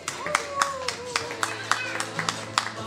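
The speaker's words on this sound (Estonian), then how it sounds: "Aplaus!" Audience at a Miss World Estonia beauty pageant claps briefly, sparse sharp hand claps in a loose rhythm over a tonal music bed.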